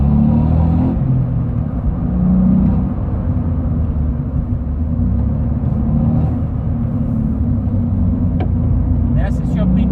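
Steady sporty engine drone and road rumble from a Volkswagen Up! GTI while driving, loud and continuous from inside the cabin with a low resonant hum throughout and a few faint clicks near the end.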